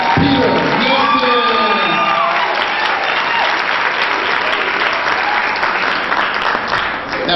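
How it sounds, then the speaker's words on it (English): An audience at a 2010 Black and Gold Idol talent show claps loudly and steadily throughout, with cheers and whoops rising over the dense applause. "Let's have a big round of applause."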